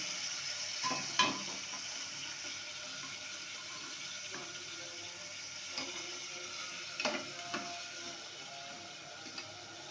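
Vakkaya (karonda) and peas curry frying in a pan, with a steady low sizzle throughout and a few brief clinks or stirring sounds, close by and moderately quiet, with no talking.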